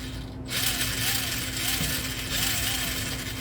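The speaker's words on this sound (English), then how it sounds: "I found the dead center on my steering servo, and checking my motors." The steering servo and motors of a vintage Tamiya Clod Buster RC truck under restoration are tested, giving a steady loud electric motor whine with gear noise and a few rising and falling servo sweeps, close up and without talk.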